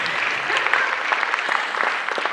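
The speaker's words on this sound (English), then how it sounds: "let's give him a round of applause" Audience applause for a man introduced as the host's husband at a marriage workshop, steady clapping from a room of listeners filling the full stretch with dense, even patter and no voices on top.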